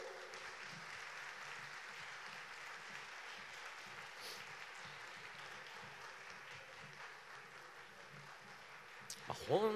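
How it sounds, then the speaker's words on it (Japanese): A crowd applauds steadily in the distance at a boat racing awards ceremony, a faint continuous patter of many hands that lasts throughout, with a brief louder noise at the end. "どうぞ皆様大きな拍手でお迎えいただきましょう"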